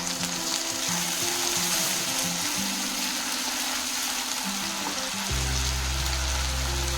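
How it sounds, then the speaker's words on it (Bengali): Tomato paste fries in a pan for dhaba-style butter paneer, giving a continuous close sizzle with fine bubbling, heard beneath steady background music. "এবার দিয়ে দেবে টমেটো বাটা।"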